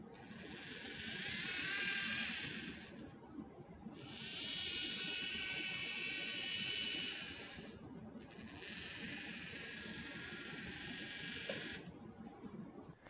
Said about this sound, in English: click Go to move our motor forwards and backwards